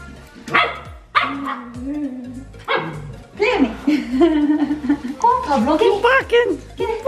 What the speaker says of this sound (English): He'll start barking in a minute.